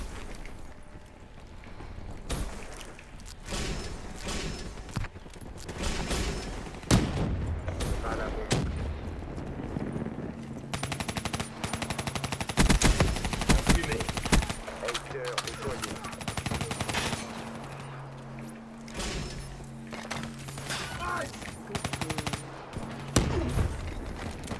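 Gunfire in the Black Ops 3 video game, dense rapid bursts and scattered shots throughout with overlapping game effects, under occasional talking.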